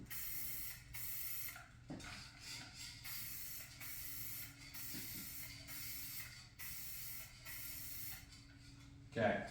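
Spray gun applying paint to an Air Design hood scoop for a 2019-or-newer GMC Sierra 1500, a steady close hiss in repeated bursts with brief pauses between passes and a louder clatter at the end.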